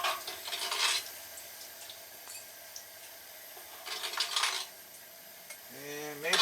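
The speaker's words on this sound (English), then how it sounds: "I don't need all of this oil, so I am going to try to spoon off with some of it." A metal spoon clinks and scrapes in a pan while skimming excess oil from browning Cajun chicken, with a few close, quiet taps over a soft background hiss and a brief tonal sound at the end.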